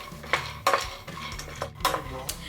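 Mixed nuts being dry-roasted on medium heat in a pan for laddu, with a utensil repeatedly scraping and clattering against the pan in quick, irregular strokes, close by.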